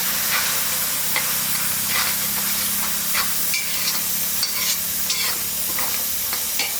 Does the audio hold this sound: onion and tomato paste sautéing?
yes